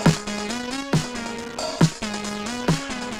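Drum hits run through a Data Bender glitch effect at a half-wet mix, giving four sharp, evenly spaced thumps with stuttering, pitched tonal buzzes that sustain and step in pitch between the hits.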